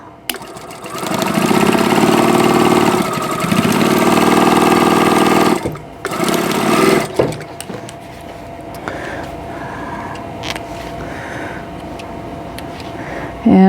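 A sewing machine stitches quilt fabric pieces together in long, loud, close whirring runs with brief stops, then a quieter stretch with faint handling noise.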